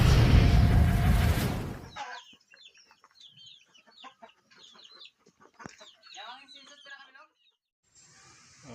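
Young chicks from a Mt. Banahaw line clucking and cheeping in a pen: a busy run of short overlapping peeps and clucks, close and moderately loud, after a brief burst of wind-like noise at the start.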